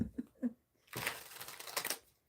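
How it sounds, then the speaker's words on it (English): A deck of tarot cards with matte cardstock is shuffled in one close, steady riffle of crisp flutter lasting about a second, after a few soft taps and handling sounds. "Ah, that was a good shuffle."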